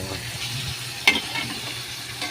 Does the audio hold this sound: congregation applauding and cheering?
no